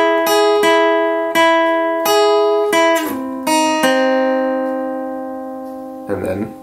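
An electric guitar slowly plays a transition riff, a series of distinct picked notes and bends ringing clearly and loudly in sequence, ending with a short strummed chord.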